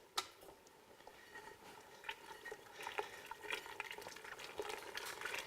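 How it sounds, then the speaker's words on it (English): Tortellini being stirred in a pan gives soft scraping and shuffling with a few sharper clinks against the cookware, faint and close, over a low sizzle with no talk. "Now I'm going to stir that in."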